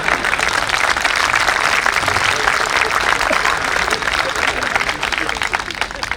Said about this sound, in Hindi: मैं चाहता हूं पूरा सदन एक बार जोरदार तालियों से आमंत्रित करे हास्य व्यंग्य लाडले कवि शंभू शिखर।